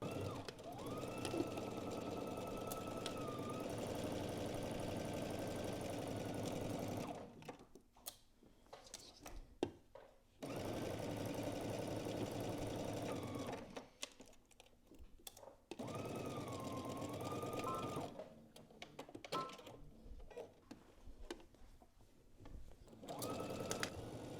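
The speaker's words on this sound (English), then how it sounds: "you're going to sew both your side seams starting at the hem and working your way up" A sewing machine runs in long steady bursts while stitching the side seams of a dress from hem upward, its rapid mechanical whir stopping briefly between runs, close and fairly loud.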